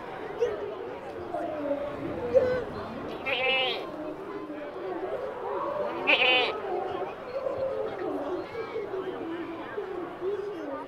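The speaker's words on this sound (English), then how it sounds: "They also have sheep" Sheep and goats bleat at a Christmas market petting area at Cincinnati's German Christkindlmarkt, two clear wavering bleats rising over a chattering crowd while a nearby voice keeps talking.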